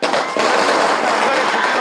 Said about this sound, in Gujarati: ફટાકડા ફૂટી ગયા છે.